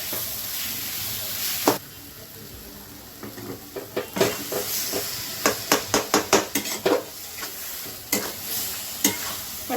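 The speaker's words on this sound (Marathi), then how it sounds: "त्या मसाल्याला त्या वांग्याला एकत्र करून घ्यायचं, वेगळं वेगळं नाही करायचं, त्याला चांगलं एकत्र करून घ्यायचं." A spoon repeatedly scrapes and knocks against a pan as roasted eggplant is stirred into sizzling masala for Maharashtrian bharit, with a steady frying hiss under a run of quick stirring clacks.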